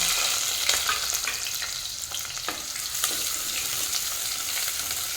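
Chopped onion frying in hot oil in a clay pot gives a bright, steady sizzle close by, broken by crackles and a few stirring scrapes, with no voices.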